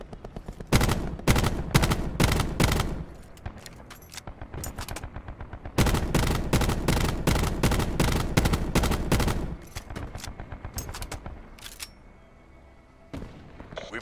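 Gunfire from weapons in the Call of Duty Black Ops 4 beta video game: loud rapid automatic bursts in two long strings, with shorter volleys and single shots between them, close and dominant throughout.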